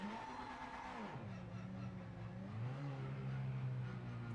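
A BMW race car engine in the Project Motor Racing game, a steady mid-pitched drone that drops in pitch and then climbs again as it revs, heard faintly and alone.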